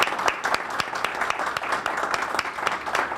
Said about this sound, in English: And now we can do the applause because the closing arguments have been done